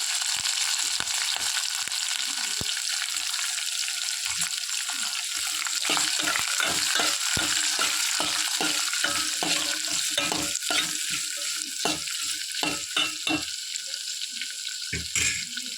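Onions and green chillies fry in oil for a potato curry to go with puri. A continuous crackling sizzle runs under frequent rhythmic knocks of a spoon stirring against the pan.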